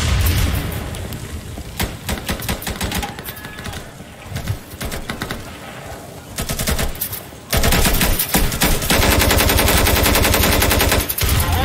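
Rapid automatic gunfire from hip-fired weapons in the Insurgency shooter game, dense bursts of loud shots rattling almost continuously, growing heavier and more sustained in the second half.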